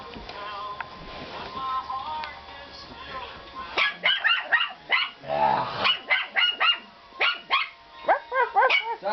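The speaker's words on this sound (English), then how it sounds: "Yeah, bark at him, Rocky." Chihuahua puppies bark and yip in a rapid, high-pitched burst of overlapping barks close by, after a quieter stretch of rustling and mixed noise, with people talking in the background.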